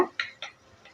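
Two eggs are scrambled in a pan for a vegetable poriyal, a utensil clicking against the pan in three or four sharp, quick taps that fade within a second.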